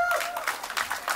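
Brief burst of audience clapping at a film teaser launch event, uneven and crowd-sized, with a voice audible over it.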